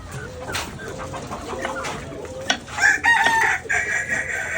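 Chickens cluck and squawk close by in a backyard at feeding time, scattered calls building into louder, overlapping cackles in the second half, with faint voices in the background.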